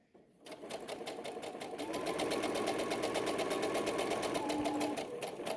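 A domestic sewing machine backstitches the start of a seam on fabric, its needle clattering in a steady, fast rhythm that starts up quickly and runs continuously, close and moderately loud.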